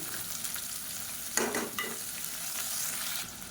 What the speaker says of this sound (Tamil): இப்போ இந்த வெங்காயம் வதங்கிட்டு இருக்கையிலே